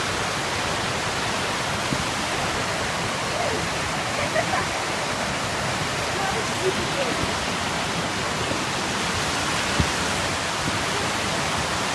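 A Carpathian mountain river roars steadily and loudly up close, a dense unbroken wash of water noise with no pauses.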